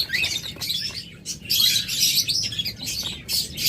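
Busy, high-pitched chirping and twittering from a group of lovebirds close by, with short bursts overlapping one another.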